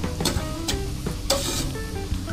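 Coconut milk with pandan leaves and sugar heats in a pan, a close, steady bubbling sizzle broken by a few scraping stirs of a spoon.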